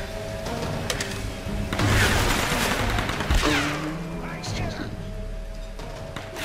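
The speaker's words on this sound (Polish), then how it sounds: "Strzał, strzał." Bursts of gunfire in the video game Tomb Raider (2013) crackle in a rapid volley, with a person talking over the shots.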